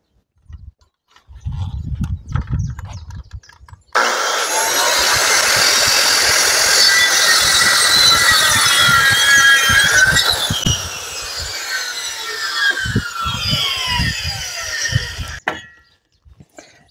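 A power saw cuts a wooden roof batten for the hip of a four-sided roof: a loud, continuous whining cut lasts about eleven seconds, between short bursts of quieter handling noise before and after.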